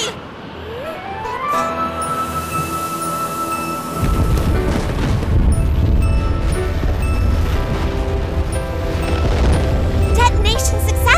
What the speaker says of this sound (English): Becky, detonate all the nanobombs.